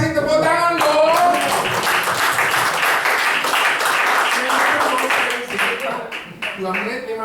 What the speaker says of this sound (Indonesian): Oke, kita kasih tepuk tangan dong.